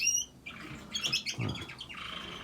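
Canaries in an indoor aviary give sharp squawks and quick chirps, close and clear, with several birds calling over one another in short bursts.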